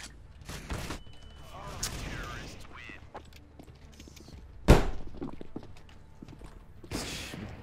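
Gunfire rings out in the CS:GO game, scattered shots with one loud crack standing out among softer game noises, and a player talks over the action.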